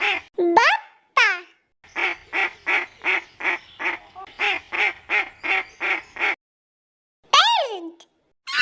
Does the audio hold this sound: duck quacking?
yes